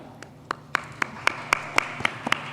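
A handful of people clap slowly and sparsely at a youth awards ceremony for a nominee, about nine distinct evenly spaced claps, fairly quiet against a low room hum.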